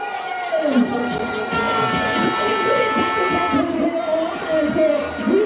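A stadium crowd at a national athletics championship in Jamaica cheers for special needs athletes, a loud steady roar under an amplified announcer's voice that carries over it throughout.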